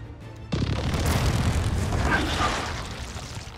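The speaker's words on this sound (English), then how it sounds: "Rockets are away." A rocket volley fires off in the Gears of War 4 video game, a sudden loud roaring blast that swells into a sustained rumbling explosion and slowly fades.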